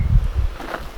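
Wind gusts outdoors across a vegetable garden beside a growing tunnel, a low rumbling buffet close to the microphone in a brief burst that fades.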